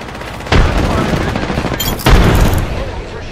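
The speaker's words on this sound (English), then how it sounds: "The enemies are shooting at me." Rapid bursts of enemy gunfire in the Apex Legends battle royale shooter, two loud sustained volleys of automatic shots, one starting early and another about two seconds in, close and dense with no speech over them.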